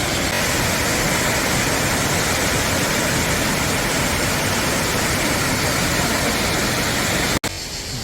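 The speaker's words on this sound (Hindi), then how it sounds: "ये देखो क्राविचा झरने का गजब का नज़ारा।" Kravica waterfall in Bosnia roars as a dense, constant rush of falling water, loud and close, filling the whole scene before cutting out abruptly near the end.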